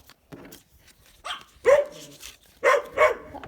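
Indoor dogs bark at a mailman in a few sharp, loud bursts, close by, after a person speaks briefly.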